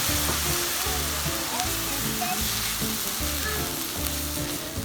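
Vegetable stock poured into vegetables sauteing in a pan for a stuffed turkey breast Thanksgiving dinner, raising a loud, steady sizzle and fry hiss with occasional stirring clatter; no one speaks.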